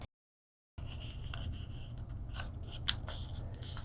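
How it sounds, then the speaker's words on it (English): Sheet of origami paper being folded in half and pressed into a crease while making a butterfly, soft crinkling and scraping rustles near and alone, with a brief sharper crinkle near the end. "At this point, we're going to fold this top part down."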